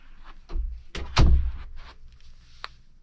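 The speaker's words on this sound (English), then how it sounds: "Close the door." A door being pulled shut, a few scraping knocks building to a solid thud at about a second in, followed by quieter shuffles and one short click near the end.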